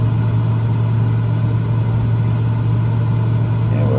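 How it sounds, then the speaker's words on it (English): A steady, droning engine hum from a Cessna 206 with a 300-horsepower engine in a flight simulator, loud and unbroken with a constant low tone throughout. "This plane's got a 300 horsepower engine."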